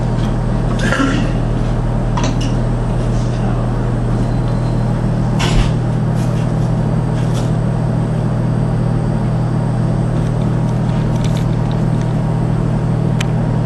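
A 300 RPM floor buffer with a polishing pad runs loud and close as a constant motor drone and low hum, with faint knocks and clatter scattered over it and no talk.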